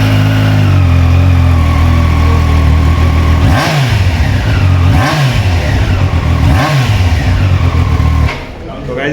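A Triumph Daytona sports motorcycle engine rumbles loudly at close range and revs up three times in rhythmic bursts before settling back to idle.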